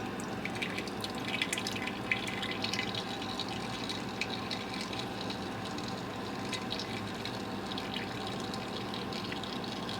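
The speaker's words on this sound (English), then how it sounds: "And I'm just gonna let it drip and drip and drip and drip." Hot, heavy roselle jam drips steadily off a spoon or utensil into a pot, a soft wet patter over a constant background hiss, with no talking.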